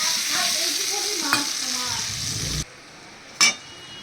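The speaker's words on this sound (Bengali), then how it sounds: "এবার এইখানে আমি দিয়ে দিচ্ছি এবার সর্ষে পোস্ত বাটাটা।" Mustard-poppy seed paste fries in a pan with a bright, steady sizzle that suddenly drops much quieter partway through, followed by a single sharp utensil clink.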